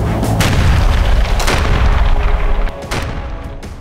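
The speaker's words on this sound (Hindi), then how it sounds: "यूक्रेनी मोर्चों पर आर्टिलरी बॉम्ब से अटैक किया गया।" Artillery bombardment on a frontline in Ukraine, loud booming blasts that crash in one after another in quick succession and fade into a rumbling tail, with no voices.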